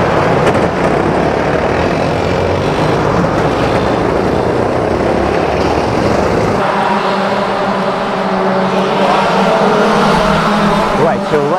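A Club 100 go-kart engine at a Daytona track runs loud and continuous for the whole stretch, its pitch climbing partway through as the kart pulls away.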